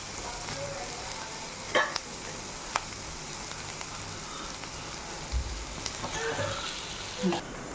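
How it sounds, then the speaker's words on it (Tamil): Sliced onions and ingredients for prawn sukka sautéing in a pan until lightly golden, a continuous crackling sizzle with occasional sharp stirring clinks and scrapes. "பொன்னிறமாக இதில் வதக்கணும்."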